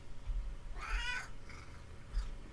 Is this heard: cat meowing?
yes